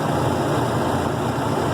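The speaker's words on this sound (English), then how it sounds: "As you can see, the engine speed is increasing." A car engine runs with a dense, steady rumble close by, loud and unbroken throughout, with no clear rise in pitch to mark the speed climbing.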